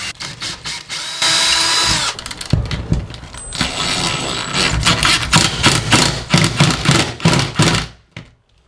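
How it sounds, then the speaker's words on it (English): A power drill whirs loudly in bursts, biting into a wall with grinding and rattling, then stops abruptly. "drill the correct size holes into your wall"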